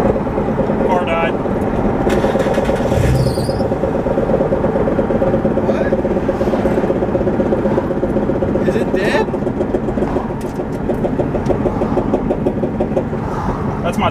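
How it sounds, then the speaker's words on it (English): Constant loud rumble of a car rolling downhill with a suspected tire problem, a dense continuous road and tire noise with faint intermittent squeals above it. "It sounds like my tire."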